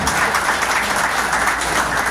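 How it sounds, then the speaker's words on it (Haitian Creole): Conference audience applauding at a rally on the constitution, a dense steady wash of clapping filling the room at an even level throughout, with no pauses. "Applaudissez tête s'il vous plaît"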